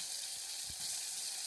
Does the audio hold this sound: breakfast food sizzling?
yes